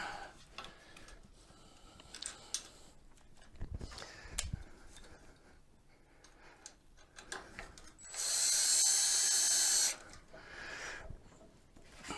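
A power drill drives screws back into place during a transaxle repair: one loud, steady whir lasting about two seconds stands out against quiet workshop ticks and clicks, with no talking.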